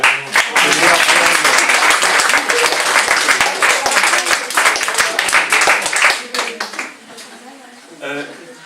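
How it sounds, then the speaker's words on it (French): An audience at a talk gives guest Martín Caparrós a loud round of clapping that fades after about six seconds, with a voice speaking briefly near the end. "je voudrais qu'on l'applaudisse"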